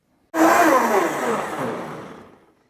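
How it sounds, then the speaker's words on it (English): A full-power blender mixing Bulletproof coffee bursts on suddenly and whirs loudly, then winds down and fades over about two seconds, heard close and alone. "You'll notice we're using a full power blender."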